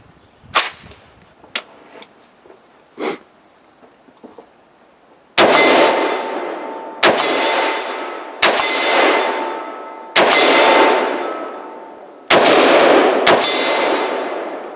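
Tavor X95 bullpup rifle fires several loud, sharp shots spaced one to two seconds apart, each with a long ringing decay, after a stretch of faint clicks and handling knocks.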